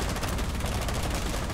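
Gunshots in a shooter video game, rapid automatic fire in quick regular pulses, loud and close, filling the whole brief moment.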